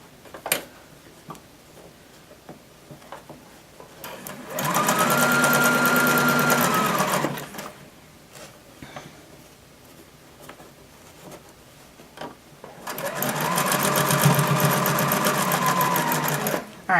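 A sewing machine stitches a dinosaur plush toy in two sustained bursts of fast whirring, each lasting a few seconds, with quiet pauses and small clicks between them.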